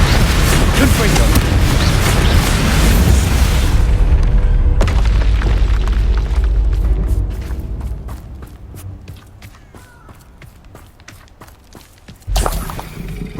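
Spell explosions from the Confringo fire spell in the video game Hogwarts Legacy, loud booming blasts dominating the first seven seconds, then fading into quieter clicks and scattered crackles before another burst near the end.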